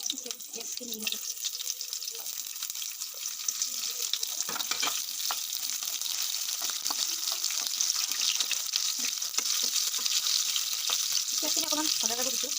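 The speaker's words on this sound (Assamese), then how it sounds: "পিঁয়াজখিনি অকণমান ভজা যাব দিছোঁ।" Onions fry in a pan of oil with chillies and five-spice seasoning, a steady close sizzle and hiss, with stirring clatter throughout and no talking.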